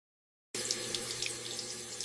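A household tap turns on after a half-second of silence and runs steadily for hand washing, a close, continuous splashing stream into a sink at moderate level, with no voices.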